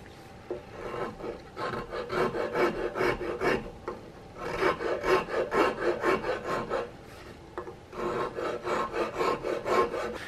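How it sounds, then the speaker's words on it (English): A wood rasp shapes the dry wooden wrist and cheek piece of a Hawken rifle stock kit in bursts of rapid, rhythmic scraping strokes, close and alone, with short pauses between runs. "So I'm going to bring my rasp up around, and we're going to start working on this wrist a little bit."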